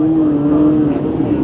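Race cars roar past at Riverside Speedway on the final lap of the Southland Championship, a loud, sustained engine drone with a steady low tone throughout, partly overlapped by a commentator's voice.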